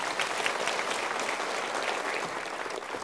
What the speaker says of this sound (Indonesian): Yuk kita berikan tepuk tangan.